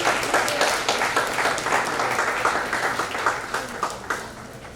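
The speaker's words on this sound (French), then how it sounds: "sous vos applaudissements, mesdames et messieurs" Sustained applause from an audience at a graduation ceremony, dense steady clapping with a few louder bursts, fairly near and continuous throughout.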